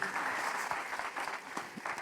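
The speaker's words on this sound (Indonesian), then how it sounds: "Tepuk tangan dulu buat Tuhan Yesus" A church congregation claps during a sermon, a brisk, dense burst of applause with a few sharper individual claps standing out, continuous throughout.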